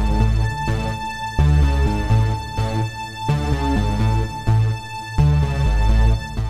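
A rendition of a synth riff plays with the major-scale seventh in place of the Mixolydian flat seventh, a loud repeating synth phrase over driving bass with no voices.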